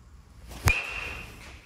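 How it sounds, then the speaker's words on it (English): A black BBCOR baseball bat hits a ball with one sharp, ringing crack whose high metallic ping hangs on briefly before fading, with nothing else audible nearby. "Black sounds like this."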